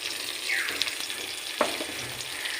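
Chopped onion fries in oil with green chili, bay leaf and garlic for a Bengali curry, a close steady sizzle with a couple of sharp clinks from a utensil against the pan.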